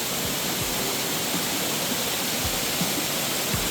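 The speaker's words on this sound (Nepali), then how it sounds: "झरनाको चाहिँ सिरैमा आइयो" A waterfall on the Babai river roars from close by, a dense, unbroken rush of falling water throughout.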